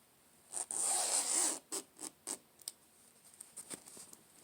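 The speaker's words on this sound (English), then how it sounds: "I'm going to unzip it" A zipper on a laptop bag sewn from a placemat is drawn open in one long pull, then a string of shorter quick zips and scratchy tugs follow, close and fairly quiet.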